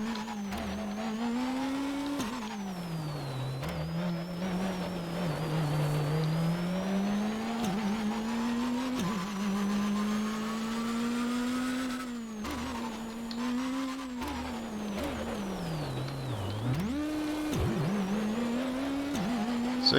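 Racing-game car engine in Shakedown, a steady loud drone rising and falling in pitch as the car climbs through revs and drops at repeated gear shifts, with brief dips and a sharp swoop near the end.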